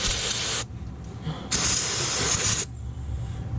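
Two bursts of hissing spray, one about half a second long and one just over a second, clean a Jeep 3.6L engine's oil filter housing area through a length of hose, with quieter background noise between them.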